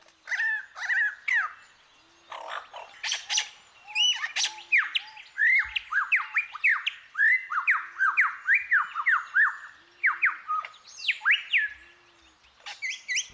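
A mimicking songbird in the Australian wild strings many different calls together, a close, loud run of squawks, chirps and whistled notes following one another in quick, varied bursts with little pause.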